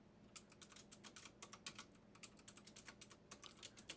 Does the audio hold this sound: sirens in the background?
no